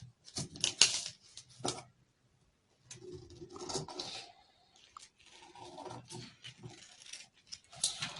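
Scissors cutting paper skirt pattern pieces, close snips and rustling of paper in uneven bursts with brief quiet gaps, some soft handling noise between cuts.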